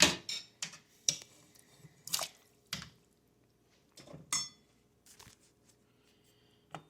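A spoon stirs bluegill and catfish chowder with cream in a pot, giving scattered light clinks and wet knocks against the metal, spaced irregularly with quiet gaps between.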